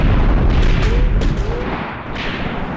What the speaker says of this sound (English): I think our mortars that you can hear plinking up and down are absolutely getting some hits over there